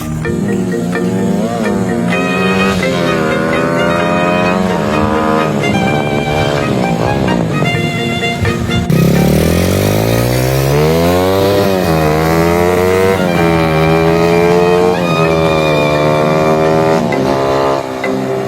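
Euro 150 motorcycle with a loud aftermarket exhaust revs hard, its pitch climbing and falling through the gears as it approaches and passes close by, buzzy and raspy throughout.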